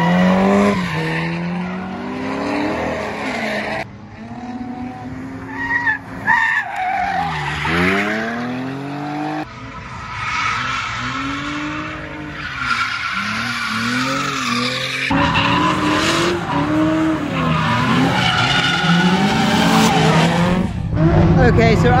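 Tires squeal and screech as a BMW E30 drifts at a drift day, engine revving hard between long skids, repeated passes at close to medium distance.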